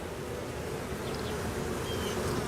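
Steady, dense buzzing of many honey bees close by at an open hive, a continuous humming drone with no other sounds.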